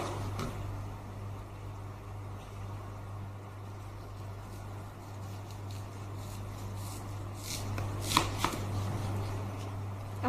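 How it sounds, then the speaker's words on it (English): Onions cut with a knife on a board for onion ring burgers, quiet irregular slicing taps over a steady low background hum, with a few sharper chops near the end. "Now I will be cutting the onions."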